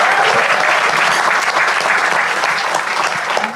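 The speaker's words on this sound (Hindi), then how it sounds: "एक बार जोरदार तालियां गार्गी जी के लिए यार" Loud, steady audience applause fills a comedy talent show studio, a dense continuous wash of clapping for a female guest that holds strong throughout and tapers only slightly at the end.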